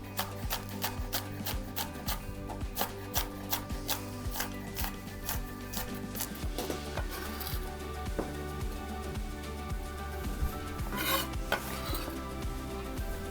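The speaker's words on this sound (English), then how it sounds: "I'm gonna cut them in half, and then I will just finely chop them" A knife rapidly and rhythmically chopping halved garnish on a cutting board for an enchilada filling with beans, crisp close taps continuing steadily without talk.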